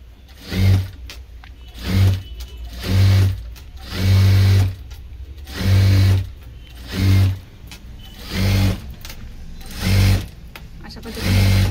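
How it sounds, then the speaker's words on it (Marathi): A sewing machine top-stitches a press seam on a 32-size four-tuck blouse, running in about nine short, even bursts with brief pauses between them, close and clear. "दाब शिलाई मारताना नेहमी मी जसं सांगितलं तसं आतलं जे फॅब्रिक आहे ते बाहेरच्या साईडला असं फोल्ड करायचं आणि त्याच्याबरोबर असं दाबून दाब शिलाई आपल्याला मारून घ्यायची"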